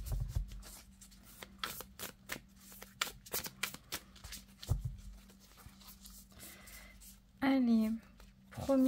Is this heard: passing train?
no